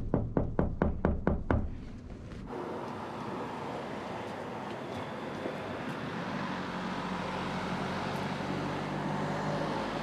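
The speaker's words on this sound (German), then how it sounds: "Auf Türen klopfen, anklingeln." A fist knocks on a door in a rapid series of about eight sharp, close raps, then stops, leaving steady traffic noise.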